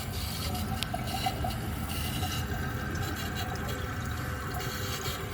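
Flush of a 1988 Artesian Atlantis toilet with a cracked bowl, a continuous rushing swirl of water that shifts partway through into a refilling hiss, close and steady with no talk.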